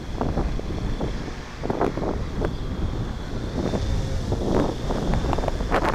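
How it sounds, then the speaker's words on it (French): Gusty wind blows during an outdoor drone flight. A steady roar buffets the microphone with uneven rumbling gusts and a faint high whine runs behind it. There is no speech. "Oh là là, ça se met à rafaler."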